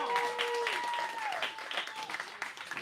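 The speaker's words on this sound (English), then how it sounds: "Please give me a round of applause." Applause and cheering from a crowd at a live poetry show in a restaurant venue, with tonal voices or whoops riding over it, slowly fading across under three seconds.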